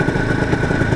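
Yamaha TZM two-stroke motorcycle engine running steadily in town traffic, a dense continuous buzzing drone close up with no break in the sound.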